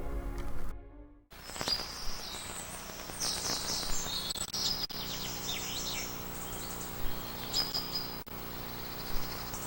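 Birds chirp and tweet in bright, scattered bursts over a faint buzz of insects, with no voices.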